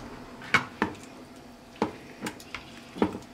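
Pork chops being stirred in seasoning in a bowl, giving a few separate scraping and clinking strokes, close and moderately loud, spaced irregularly with quiet gaps between them.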